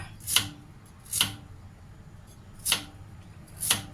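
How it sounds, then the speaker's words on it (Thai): A knife cuts through sweet potato four times, each slice a crisp, close chop against a board, unevenly spaced over a faint background hum. "จะหั่นไปเลย หั่นไปเลยจะได้สุกพร้อมกัน"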